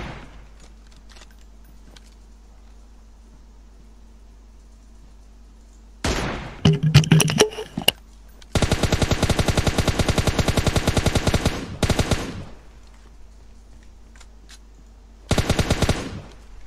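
Gunfire in PUBG Mobile: after quiet, a few loud single shots ring out, then a long rapid burst of automatic fire, and later another short burst, all loud and close.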